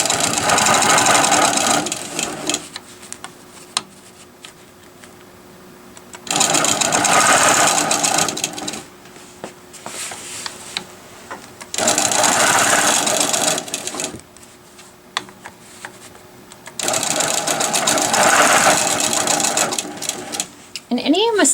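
A longarm quilting machine stitching a quilt border runs in four long bursts of fast, loud mechanical needle chatter, separated by quiet pauses where the machine stops and is repositioned.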